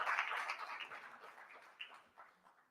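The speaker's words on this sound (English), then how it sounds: "a big round of applause for the chairperson of Inseta Board" Applause for the board chairperson at an annual general meeting, a moderate patter of clapping that is strongest at the start and thins out gradually over a few seconds, with nothing else around it.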